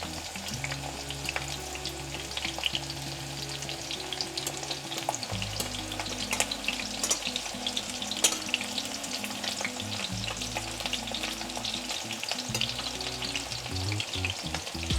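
Japanese-style chicken tenders fry in hot oil, giving a continuous dense crackling sizzle throughout, with soft clacks and shuffles as pieces are turned over, close by and steady.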